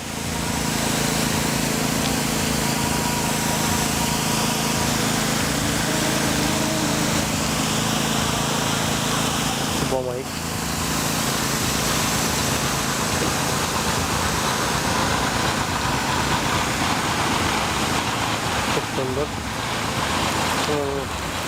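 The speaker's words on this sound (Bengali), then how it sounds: "ফ্লোটিং পাম্প 4 স্ট্রোক TX35 এর ইঞ্জিন, হাই স্পিড একটি ইঞ্জিন।" A high-speed four-stroke TX35 floating irrigation water pump engine drones steadily throughout, loud and close, with someone speaking over it.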